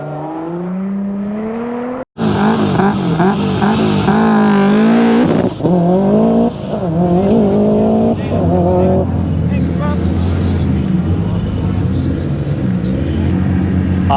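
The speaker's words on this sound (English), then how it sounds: "Heading down the drag strip. It's the R35 GDR." An R35 Nissan Skyline GT-R accelerates hard down a drag strip, its loud engine climbing through rising gear pulls with sharp shifts and a brief cut near the start, while a voice talks over the roar.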